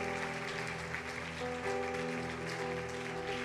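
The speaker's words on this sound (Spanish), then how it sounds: "Den un fuerte aplauso al Señor." Church congregation applauding during a worship service, a steady wash of clapping heard throughout with sustained organ or keyboard tones beneath, no talk over it.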